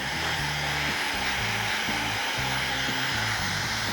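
A hair dryer blows hot air at the roots of a woman's hair during quiff styling with a Denman brush, a loud, close, steady whoosh whose pitch wavers as the airflow shifts.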